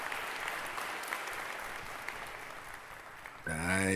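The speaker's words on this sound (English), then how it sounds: "Round of applause, man" Studio audience applauding at the start of a debate episode, dense steady clapping that carries on until a voice cuts in loudly near the end.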